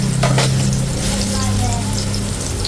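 Butter hitting a hot pan of shrimp, a close, continuous crackling sizzle with a low steady hum underneath.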